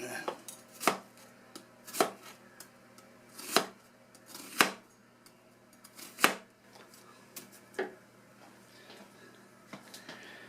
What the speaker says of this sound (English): I'm going to chop this onion up here real good.